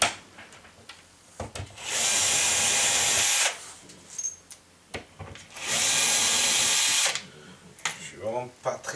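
Power drill backing screws out of an electric radiator during installation, two sustained loud whirring bursts of a couple of seconds each, with handling clatter and talk in between.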